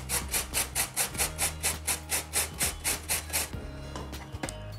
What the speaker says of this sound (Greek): Το καρότο μας το τρίβω στην αδρή πλευρά του τρίφτη.